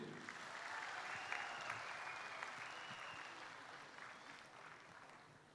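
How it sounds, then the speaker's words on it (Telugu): Sustained applause from a large audience fills a felicitation event honouring Mohan Babu at the Kakatiya Kala Parishad celebration, steady and dense throughout and slowly tapering toward the end. "give a big clap to him"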